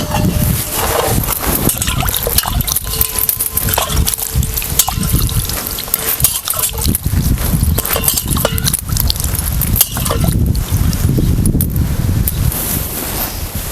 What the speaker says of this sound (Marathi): हे का धुवून घ्यायचं आहे आता हे घोसावळे।